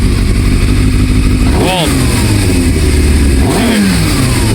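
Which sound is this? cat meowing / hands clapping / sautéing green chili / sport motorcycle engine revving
sport motorcycle engine revving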